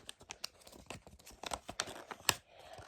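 A small paper packet is torn open by hand in a series of short crinkly rips and rustles, close and fairly quiet, with one sharper tear near the end.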